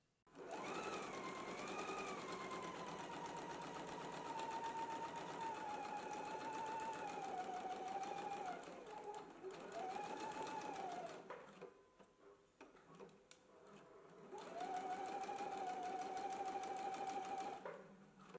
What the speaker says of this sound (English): Let's go ahead and stitch both pockets now.